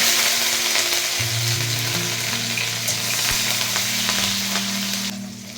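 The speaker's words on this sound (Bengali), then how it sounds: "তেল আমাদের গরম হয়ে এসেছে। আমি এতে যে কাঁচা লঙ্কা কুচিটা করে রেখেছি সেটা দিয়ে দিলাম" Chopped green chillies sizzle steadily in hot sunflower oil, a close, continuous frying hiss over a low hum that eases slightly at the end.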